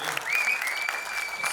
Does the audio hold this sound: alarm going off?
no